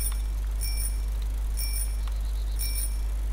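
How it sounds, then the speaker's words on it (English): Repeated high-pitched bicycle bell rings in a video game, three bright bursts spaced about a second apart over a steady low engine-like hum, with no talking. "go through the middle of Electro and just ring the bells? Ring the bells."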